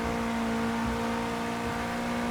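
A race car engine in Project Cars 2 at Silverstone in wet conditions, a loud, steady, high-pitched drone holding nearly constant pitch throughout, with no talking over it.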